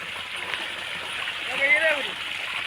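Steady rushing borewell water gushes continuously with a broad hiss, a voice speaking briefly over it partway through.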